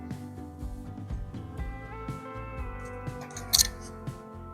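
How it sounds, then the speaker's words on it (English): Aviation snips cut through a shim on a locked-up knotter hub of a Tie-Grabber, giving one brief, sharp metallic snip near the end, set against steady background music. "I go in there one at a time and I snip it"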